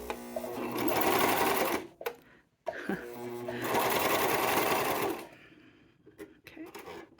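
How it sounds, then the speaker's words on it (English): A cover stitch sewing machine runs in two bursts of about two seconds each as it stitches a towel seam. The whirring is close and loud, with brief pauses and handling clicks between the runs. "I'll just show you what the cover stitch looks like while it's on the move"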